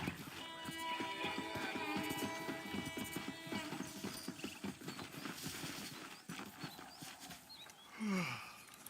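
Rapid rhythmic hoofbeats of a horse in the video game Red Dead Redemption clatter over background music and rumble, the gallop slowing toward the end, with a brief horse snort near the close.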